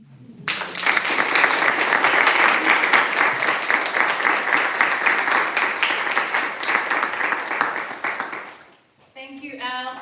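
An audience at a poetry reading breaks into loud, sustained applause that swells quickly, holds for several seconds and then fades, followed by a voice starting to speak.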